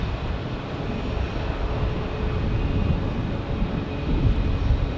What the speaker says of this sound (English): A321neo here at United Airlines